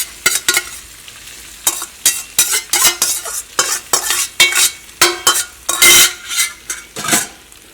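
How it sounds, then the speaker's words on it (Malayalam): Cooked rice stirred in coconut oil in a frying pan, with repeated rhythmic scraping and clinking strokes of a utensil over a soft sizzle, close and fairly loud, with no talking. "അപ്പോൾ നമ്മളിങ്ങനെ ചോറ് ചേർക്കണേ."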